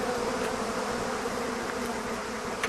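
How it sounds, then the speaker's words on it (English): Swarm of Africanized killer bees buzzing, a dense continuous drone of many wings, steady and fairly loud throughout with no pauses. "these killer bees have reached Arizona and Texas"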